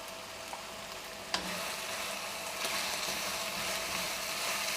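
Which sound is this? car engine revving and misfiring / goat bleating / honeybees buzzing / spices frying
spices frying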